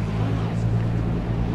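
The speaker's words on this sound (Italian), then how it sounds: "sto chiaramente accendendo il motore" Inside a Nissan GT-R NISMO GT3 race car in Assetto Corsa Competizione, the engine has just fired up and settles into a deep, steady, loud idle rumble.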